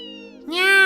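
Cat meowing in a game scene, a soft sustained tone that swells into a louder, drawn-out meow, close and alone without talk.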